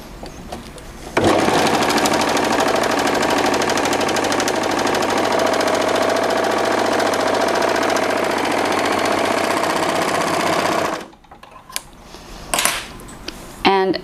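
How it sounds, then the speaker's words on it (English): A Bernette Airlock B64 overlock machine sews a straight stitch in a steady, loud mechanical whir for about ten seconds, then stops, followed by a few soft handling clicks. "So I'm gonna sew a little bit of a straight stitch."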